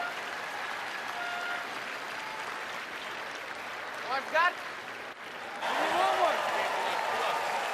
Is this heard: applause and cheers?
yes